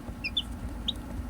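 A mother hen and her newly hatched chicks on their first day, with a few short, high chick peeps and soft clucks over a steady low background rumble.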